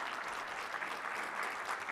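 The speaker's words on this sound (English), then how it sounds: "why don't you give her a round of applause as she's coming on stage?" An audience at a tech conference session applauding as a presenter walks on stage, a dense, even burst of clapping from a sizeable crowd that holds steady across the whole moment.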